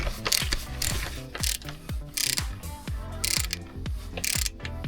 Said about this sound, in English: First we're gonna loosen up on here the bolt which holds the tensioner.